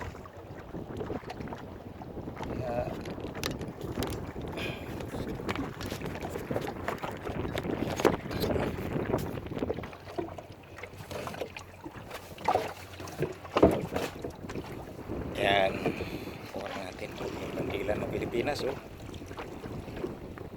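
A boat engine drones on a sea trial under heavy wind buffeting on the microphone, with splashing water and occasional voices in the background.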